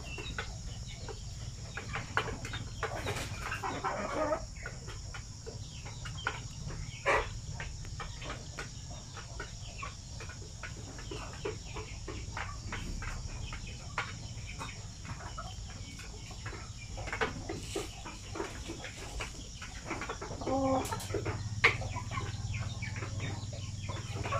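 Basilan native chickens in a dim breeding pen give scattered soft clucks and calls over a steady, dense chorus of crickets and insects, with no talking.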